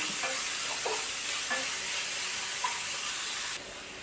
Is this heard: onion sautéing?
yes